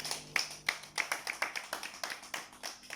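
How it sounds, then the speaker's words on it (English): A church congregation claps their hands in a steady, fairly quick rhythm, each sharp clap distinct and close, repeating throughout with no talking over it. "Okay, clap your hands for Jesus."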